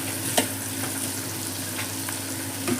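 Bitter gourd slices frying slowly in a pan over a low flame, giving a steady soft sizzle with occasional stirring scrapes, close and fairly quiet, with no talking.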